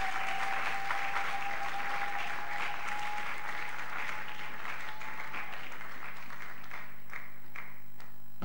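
A church congregation at a French-language worship service breaks into steady, sustained applause and cheering, filling the room for several seconds before thinning out at the end, with a faint tone running beneath.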